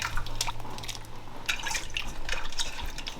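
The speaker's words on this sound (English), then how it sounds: "I'm gonna wash the snail. There's sand and stuff in there." Water drips and splashes as snails are rinsed of sand in a bowl while cooking Ghanaian spinach soup, with irregular sloshing bursts and trickles close by, no talk.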